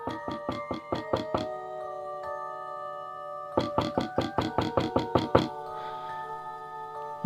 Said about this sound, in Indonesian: rasanya kok malam-malam ada yang ngetuk pintu sih?